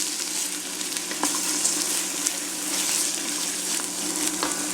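Browned tempeh sausage sizzles loudly in a pan as veggie broth is added, a dense steady hiss of bubbling liquid up close with a few faint clinks of stirring.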